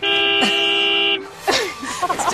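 A car horn gives a sustained loud honk for about a second, then stops, followed by startled voices reacting nearby.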